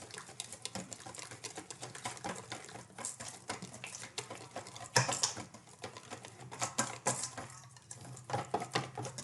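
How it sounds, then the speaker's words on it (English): A whisk beats pancake batter in a bowl, fast irregular clicking and tapping strokes against the bowl, close and fairly quiet, with brief pauses and bursts of quicker whisking. "I'm going to whisk that into as smooth a batter as I can get it"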